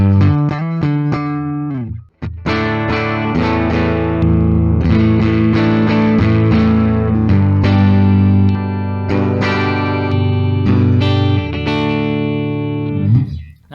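Gibson electric guitar played through an amp on the neck pickup, ringing chords and low-register notes with effects, loud and sustained, a brief gap near the start, no voices.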